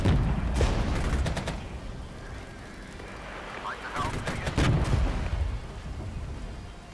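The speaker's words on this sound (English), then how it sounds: "Off map artillery is helping." Off-map artillery fire in the Regiments war strategy game, heard as several booming explosions and rumbling blasts, some distant and some closer, in a loud battle mix.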